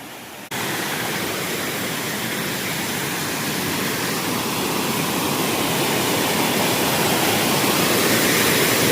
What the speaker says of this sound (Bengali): আর এই হলো ঝর্ণা